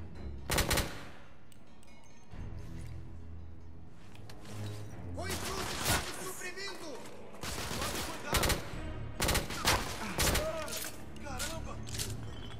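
Gunfire from a weapon in the video game The Order, heard as several sharp, loud bursts and rapid volleys scattered through the stretch, with a voice talking in between.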